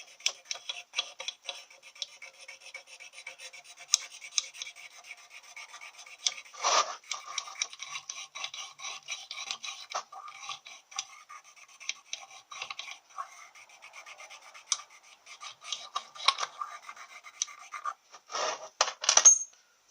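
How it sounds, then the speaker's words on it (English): A super fine stone rubs and scratches over a cast iron Chevy Powerglide transmission part, giving faint, steady rasping strokes with occasional sharper scrapes and clicks, close by with no talk. "I'm just going to go over with that super fine stone."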